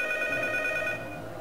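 A telephone rings in the P.T. horror game demo: a bright, pulsing electronic ring repeats for about a second and then cuts off, leaving a quiet, low ambient hum with no talking.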